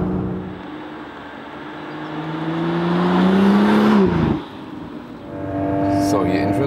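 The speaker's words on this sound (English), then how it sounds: "the car remains in the first gear. It gets so loud." A BMW M2 Coupé with a 370 hp engine revs hard in first gear, the note rising steadily and loudly, then dropping abruptly before picking up again, heard up close from inside the car.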